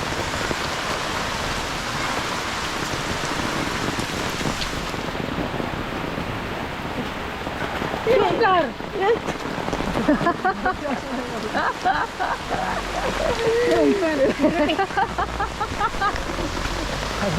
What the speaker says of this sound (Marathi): मुसळधार पावसाची हजेरी